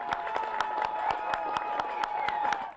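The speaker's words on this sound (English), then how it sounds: "Students, faculty, and staff applauded President Cockett as she walked down the steps of Old Main" Students, faculty and staff applaud the president of Utah State University on the steps of Old Main, a steady outdoor clapping of a mid-sized crowd with a few sharper individual claps cutting through.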